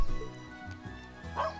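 A small dog in the video game Trails of Cold Steel gives short yipping barks and whimpering woofs, close and moderately loud over a steady game music bed.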